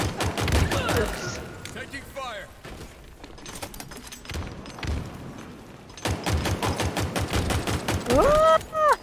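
Halo Infinite gunfire on PC crackles in rapid automatic bursts, one at the start and a longer sustained volley near the end, with players talking in between and over the shots.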